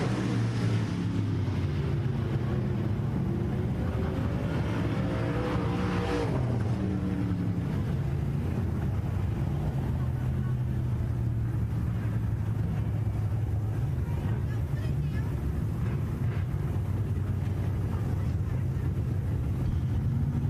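Modified race cars of a heat finish at RPM Speedway with a loud, sustained engine roar that swells and shifts in pitch as they pass, filling the track without pause.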